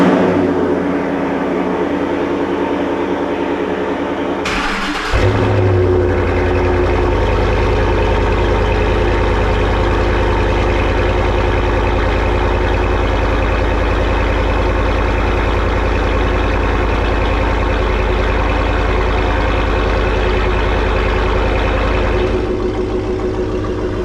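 A Ford Raptor V8 in a garage fires up after storage with a brief loud burst, then settles into a steady, loud, close idle with a deep rumble that holds evenly for the rest of the clip.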